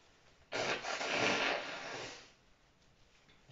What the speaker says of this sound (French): Je suis désolée, je me mouche avec vous là.